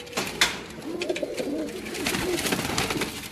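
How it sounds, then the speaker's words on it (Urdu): Pigeons coo softly and repeatedly nearby, with a quick flutter of wings near the start and a gentle rolling murmur throughout. "چلائیں اسد بھائی دو تین کبوتر پکڑ کے ذرا"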